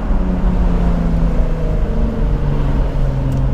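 A Jaguar F-Type engine revving on a mountain pass, a loud, steady, close low rumble that holds throughout, with no talking.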